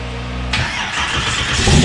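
A 1955 Chevrolet Bel Air, a loud hot-rodded car, cranks and fires up close by, the starter's steady churn giving way abruptly to a rough, rumbling engine that swells slightly as it catches and runs.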